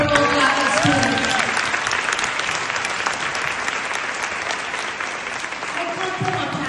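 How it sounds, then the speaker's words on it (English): Audience at a gala applauds DACA students, a loud dense burst of clapping from a large crowd that fills the room throughout, with faint voices and a whoop or two mixed in. "Give a round of applause for those DACA students."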